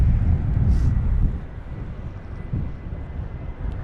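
An Airbus A220-300 airliner at London Heathrow during Storm Kathleen, its low engine roar blending with heavy gusting wind buffeting the microphone, loudest at first and then easing to a steady rumble.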